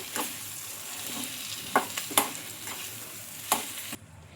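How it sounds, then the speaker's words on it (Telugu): Potato pieces sizzling in a hot tempering of oil and spices on a stovetop, with steady frying hiss and several sharp scrapes and clicks of a spoon stirring the pan, no talking. "ఇంకా ఇలా మొత్తం బాగా కలుపుకుందాం, ఈ ఆలుకి బాగా పోపు పట్టేలాగా"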